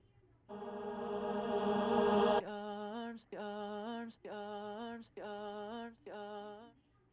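A sustained vocal note gives way to a delay effect repeating the sung word four or five times in even, evenly spaced echoes that stay fairly level, with no talking.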